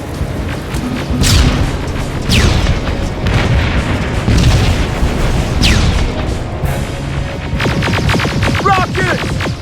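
Rocket explosions in the Terminator Resistance video game: heavy, rumbling booms strike one after another over a continuous low roar of battle, loud and close, with no talking.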